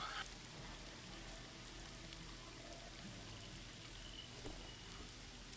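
Soft, steady rainfall plays as a faint ambient backdrop during a tabletop role-playing game session, a continuous gentle patter with no voices over it.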